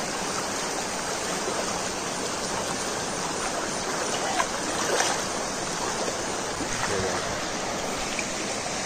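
Cold river water rushes and churns steadily around someone wading through it, a loud, continuous broadband roar with faint splashes.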